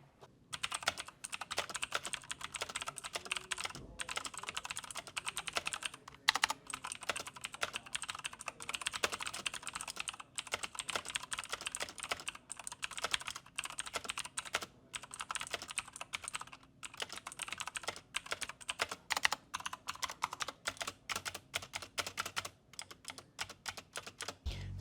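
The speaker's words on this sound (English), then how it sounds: "first thing I wanna do is a quick typing test. I wanna hear, you know, how this thing actually sounds." Steady, rapid typing on a Razer BlackWidow V3 Halo Infinite mechanical keyboard, dense clicky keystrokes running continuously with brief pauses, close and clear with no talking.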